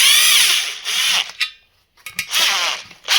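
A power gun drives bolts into a KT100 kart engine during assembly, letting out two loud, close, whining bursts separated by a short pause of near silence.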